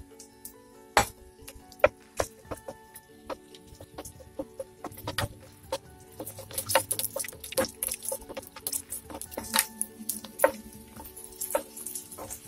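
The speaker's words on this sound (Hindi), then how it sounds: "तेल गरम हो गई है, अभी सबसे पहले हम सूखी लाल मिर्च और लहसुन को भून के निकाल लेंगे।" Dried red chillies and garlic sizzle in hot oil for peanut chutney, with sharp, irregular crackles and pops scattered over a soft frying hiss that grows busier toward the end.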